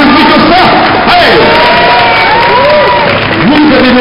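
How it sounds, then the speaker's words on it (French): At a cosplay day parade in Saintes, a loud crowd cheers, whoops and applauds a cosplayer, with shouts and raised voices layered over the clapping and a steady, dense roar throughout. "je vais vous demander d'applaudir"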